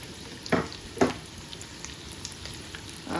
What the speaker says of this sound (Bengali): আমার তেলটা গরম হয়ে গেছে, তো পেঁয়াজ দিলাম, আর রসুনের পেস্ট ফ্রোজেন পিস দিলাম